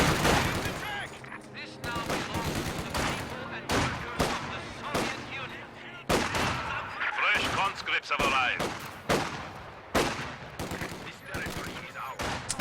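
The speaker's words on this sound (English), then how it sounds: "And as soon as the MG42 sets up, he gets out" Bursts of MG42 machine gun fire and other gunfire in a World War II strategy game match, sharp repeated volleys from near and far filling the battle throughout.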